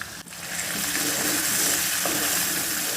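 Potato pieces with a paste of four green chilies and ten grams of white cumin sizzle steadily in a hot pan, a loud, dense close fry with faint stirring scrapes.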